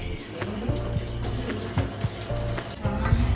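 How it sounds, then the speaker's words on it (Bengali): Raw chicken being rinsed under a running kitchen tap, a steady close water flow with intermittent splashes and clunks in a sink. "তাই ফার্স্টে আগে চিকেনটা ধুয়ে নিচ্ছি।"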